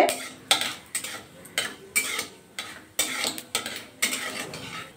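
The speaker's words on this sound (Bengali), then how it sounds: "কড়ার মধ্যে তেল অ্যাড করে দেবো। তেলের মধ্যে অ্যাড করে দেবো কালো জিরে 1/2 চামচ। নাড়াচাড়া করে কালো জিরেটা ভাজা করে নিতে হবে।" Half a spoon of black cumin seeds frying in oil in a wok, soft sizzling under rhythmic spatula strokes that scrape and tap against the metal about twice a second, close and clear.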